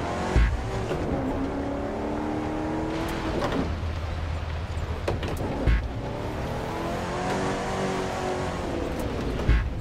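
A Ford Mustang monster truck in The Crew 2 revs and drives, its engine rising through gears in repeated sweeping climbs with occasional thumps, loud and close, no talk over it.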